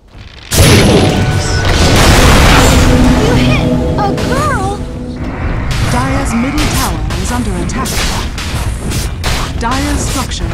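A tower destroyed in Dota 2, a loud booming crash with crumbling debris that quickly fades into game effects, while voices speak over it.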